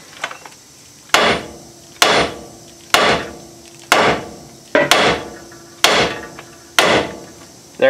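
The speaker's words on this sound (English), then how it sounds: "And what I'll do is I'll hit the knuckle right here." A hammer strikes the steering knuckle of a 2007–2021 Chevrolet Silverado truck to break the ball joint loose: seven sharp, loud metallic blows at roughly one-second intervals, each ringing briefly, with no talking.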